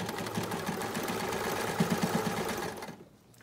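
A sewing machine stitches steadily along the old seam line of a folded fabric mask edge, a close continuous whir with a brief quickening before it winds down and stops near the end.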